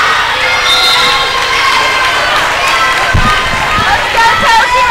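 Spectators shouting and cheering loudly at a high school girls' volleyball match in a gym, a dense continuous roar of voices with sharp thumps from the court.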